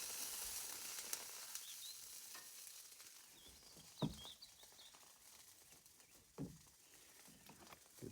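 Food sizzles on a Blackstone griddle outdoors in a steady, faint hiss, broken by a few clinks and scrapes.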